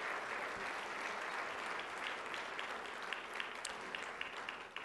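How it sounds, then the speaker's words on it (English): Sustained applause from a large crowd at a university celebration event, steady and loud throughout with dense clapping and no voices standing out. "I love a great round of applause for all of those organizations."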